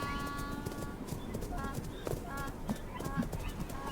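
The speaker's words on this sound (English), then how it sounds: "Unique to the Qinghai-Tibet Plateau, they are Tibetan wild asses." Tibetan wild asses moving on the Qinghai-Tibet Plateau: a quick, steady clip-clop of hooves at mid distance, partly under a speaking voice.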